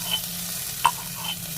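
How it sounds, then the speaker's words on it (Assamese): Onion and dried chili, with crushed ginger and garlic, fry in a pan, giving a soft steady sizzle with a brief clink of stirring partway through. "পিঁয়াজ আৰু শুকান জলকীয়া দি লৈছোঁ। এইখিনি অকণমান ভাজি ল'ম।"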